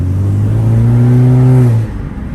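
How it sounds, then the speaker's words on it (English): Close, loud engine rev from a car in sport mode fitted with an aftermarket resonator, the pitch climbing smoothly for about two seconds before dropping off abruptly. "And then I'm gonna put it in sport mode. So my RPMs is higher."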